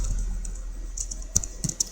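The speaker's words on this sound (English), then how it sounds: "So you would just type right here." Typing on a computer keyboard while writing a story: a few scattered, quiet key clicks, sparse at first and then in a quicker cluster near the end, with no talking.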